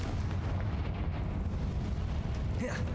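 Confringo fire spell in the Hogwarts Legacy video game, a low rumbling fiery blast that roars steadily and ends with a rising whoosh.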